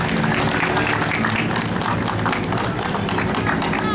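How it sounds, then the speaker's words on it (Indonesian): An audience claps at a gate inauguration ceremony. The close, busy applause mixes with a faint tonal background and carries on evenly without pause. "Tapi kita kasih tepuk tangan dulu dah buat Ibu Hajar Widya Ningsih."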